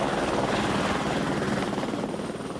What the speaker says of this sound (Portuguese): Todos os dias, centenas de helicópteros cruzam os céus das grandes cidades como São Paulo.